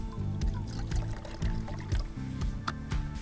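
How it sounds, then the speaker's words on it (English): Water poured into the cup of a Jetboil Flash V2 hiking stove, a soft splashing trickle in uneven bursts, close by and fairly quiet. "Fill it up with the desired amount of water."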